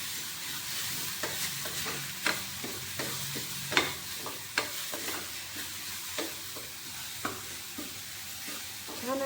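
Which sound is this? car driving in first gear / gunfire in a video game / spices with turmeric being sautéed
spices with turmeric being sautéed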